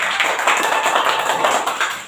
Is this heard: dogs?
no